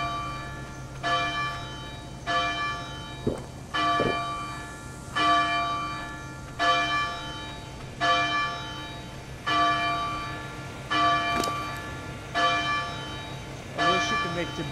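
A resonant bell in a video game rings repeatedly at a steady pace, about once every one to two seconds, each strike loud and ringing out with a long shimmering decay.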